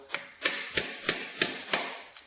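Screwdriver prying at an internal snap ring on a front-wheel-drive wheel bearing, giving about seven sharp metallic clicks and taps at a steady, fairly even pace, close up and with no other sound.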